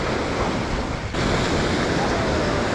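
Ocean surf at Salalah, Oman, washes in a continuous, dense roar, blended with heavy wind buffeting the microphone; no talking.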